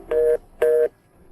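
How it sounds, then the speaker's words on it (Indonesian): Ringback tone of an unanswered telephone call: two steady electronic beeps of equal length, evenly spaced and clear, with quiet between and no voices. "Gu Huainian, bahkan telepon Paman Gu saja tidak diangkat."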